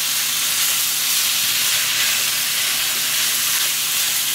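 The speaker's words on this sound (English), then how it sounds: "I'm going to stir it all up so that everything is mixed nicely" A chicken dish cooking for chicken and biscuits, stirred in a pan with a loud, continuous hiss and sizzle close up, with no talking.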